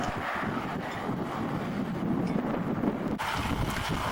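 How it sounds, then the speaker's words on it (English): Strong wind gusting steadily across an open outdoor site at the Minuteman Missile National Historic Site in South Dakota, a loud continuous roar buffeting the microphone for the whole span, with a brief dip near the end. "The wind is blowing something ferocious out here."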